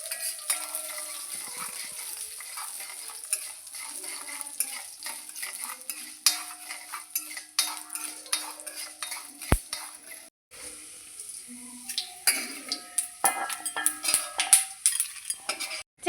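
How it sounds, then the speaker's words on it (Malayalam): Urad dal stirred in a pan until browned for jackfruit erissery: a spoon scrapes and clinks against the metal pan in steady, irregular strokes, with a light sizzle underneath, close and alone without talk. "ഉഴുന്ന് ബ്രൗൺ കളറാകുന്നവരെ ഇളക്കി കൊടുക്കാം"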